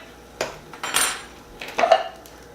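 A fork clinks against a pan of cooked BBQ meatloaf balls in a few light, close metallic taps and scrapes, with no talking.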